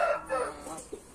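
A rooster kept in an aviary crows at close range, a single drawn-out call with clucking fowl around it and no talk.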